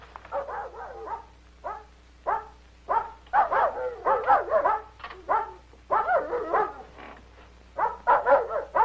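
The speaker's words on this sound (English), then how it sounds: "What are they barking about? Are they, the dogs out in the garden?" Several dogs bark and yip in rapid, irregular bursts out in a garden, fairly close and loud, with short pauses between volleys.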